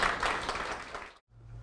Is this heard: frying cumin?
no